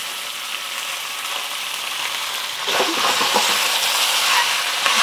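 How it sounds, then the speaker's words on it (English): Rice noodles for Cantonese beef chow fun fry in a hot wok with onion, a loud, steady sizzle that swells and turns crackly partway through as the noodles go in, with no talking. "And we're going to add our noodles."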